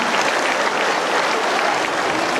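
An audience applauds steadily to welcome a guest at a Sri Navanatha Siddheshwara Pyramid second anniversary celebration, dense clapping continuing evenly throughout.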